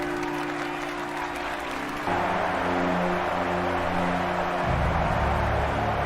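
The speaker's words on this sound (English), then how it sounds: "He's got all these people cheering him" A large crowd cheers and applauds in a continuous roar for Aegon Targaryen being proclaimed king in a House of the Dragon scene, the noise swelling slightly as it goes on, with score and background tones beneath.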